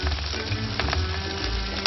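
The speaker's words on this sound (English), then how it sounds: "Put on the onions, turn the heat down," Onions and garlic sizzle steadily in a hot pan, a close, continuous crackle with small pops and a stir or two, no voices.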